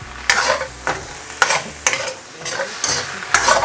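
Leftover turkey foo yung is stir-fried in a wok, with repeated scraping stirs every half second or so over a continuous close sizzle and no talking.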